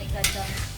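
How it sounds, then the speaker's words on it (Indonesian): Grated coconut dregs fry with spices in a pan, a brief close sizzle with a sharp scrape of stirring partway through. "Proses menggoreng ampas kelapa bersama dengan bumbu masakan tadi paling tidak membutuhkan waktu"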